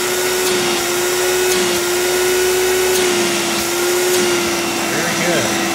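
A Hoover Dial-A-Matic Power Drive U6039 upright vacuum cleaner runs close and loud with a steady whining hum throughout and no change in pitch.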